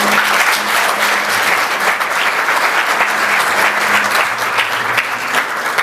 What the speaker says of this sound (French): je souhaite qu'on applaudisse très fort pour vous-même